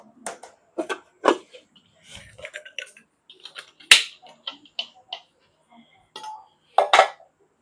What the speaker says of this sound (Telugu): మిక్సీ జార్ తీసుకుంటాను.